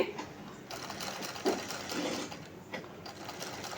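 A sewing machine runs steadily, stitching a folded seam on a school uniform shirt, with a continuous close mechanical whir and light rattling throughout.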